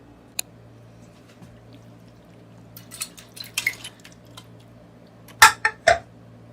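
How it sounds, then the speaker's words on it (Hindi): A few soft wet plops and clinks as pieces of mutton liver drop into a metal pressure cooker, quiet at first, then three louder thuds near the end. "तो चलें इसको डालते हैं कुकर के अंदर।"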